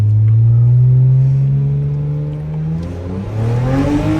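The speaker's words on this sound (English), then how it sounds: "Downpipes installed. Got a little burble action." Catless downpipes on a 2007 BMW 335i give a loud, close engine drone that holds steady, then the note dips and rises into a rougher, growling rev near the end.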